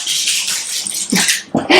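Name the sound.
dog screeching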